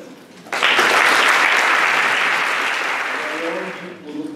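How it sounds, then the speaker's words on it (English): Audience applause at an academic conference on epistemologies of the South, a sustained, dense burst of clapping that swells suddenly, holds loud for several seconds, then tapers with a few voices emerging near the end. "A round of applause for them."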